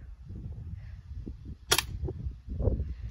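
An airsoft gun fires a single sharp, snappy shot near the middle, a brief close crack above quiet low background rumble.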